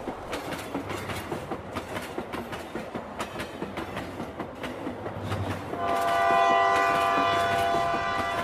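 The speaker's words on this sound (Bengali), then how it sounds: "তবে হঠাৎ দেখলাম ট্রেনটি মাঝপথেই থেমে গেল।" A cartoon-style train runs along the rails with a steady clickety-clack rhythm, then a loud sustained horn blast takes over for the last few seconds.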